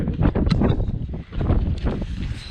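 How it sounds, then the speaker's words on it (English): Strong wind at a hilltop house build site buffets the microphone with a constant, loud rumbling roar, broken by gusty surges and one brief lull midway. "The wind up here today is amazing and annoying"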